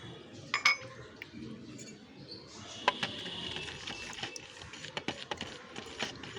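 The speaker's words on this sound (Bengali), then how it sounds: "1 চা চামচ হলুদের সাথে আমি ভালো করে দইয়ের ঘোলটাকে মিশিয়ে নেব।" A teaspoon stirs yogurt whey with turmeric in a container, giving sparse light metallic clinks and taps against the vessel, faint and close, with some quiet background noise.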